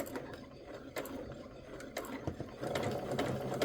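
A sewing machine stitches a quilt fitted with a new presser foot, a steady close mechanical whir with rhythmic needle ticks that speeds up and grows louder toward the end.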